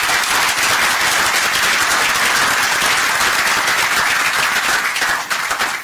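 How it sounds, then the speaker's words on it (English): An audience at a live-streamed talk gives a loud, sustained round of applause, dense clapping that stays steady and then trails off near the end. "Give her a big round of applause."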